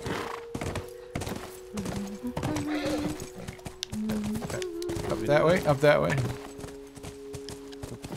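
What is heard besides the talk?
horse hooves clip-clopping in the video game The Last of Us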